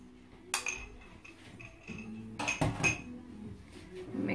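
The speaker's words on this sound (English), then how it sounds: "So we mix that up a bit." Vanilla essence being mixed into cheesecake batter in a bowl, with clinks and scrapes of a utensil against the bowl in irregular bursts, close and fairly quiet.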